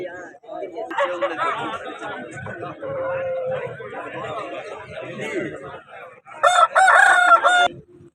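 A black rooster at the Vijayawada rooster market crows loudly and close near the end, after a stretch of clucking and market chatter, with people talking throughout.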